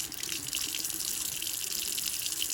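Tap water runs steadily from a faucet into a sink, rinsing an oral appliance with lukewarm water; a continuous, close, fairly loud hiss and splash with no talking.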